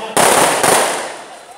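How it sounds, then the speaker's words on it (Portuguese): Rojões, loud firecrackers announcing a maracatu group's arrival at carnival in Nazaré da Mata, Pernambuco: two sharp, close bangs in quick succession, each trailing off into a long echoing decay. "Os rojões anunciam a chegada do Gavião da Mata."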